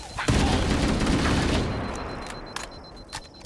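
Assault rifle in Halo fired in a loud, dense continuous burst for about a second and a half, then tailing into a few scattered sharp shots and clicks, close and harsh.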